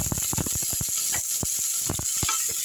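Sliced onions and a handful of curry leaves sizzle in hot oil for a pepper chicken curry, a steady bright hiss punctuated by sharp crackles and pops, with a few scraping stirs, close and alone.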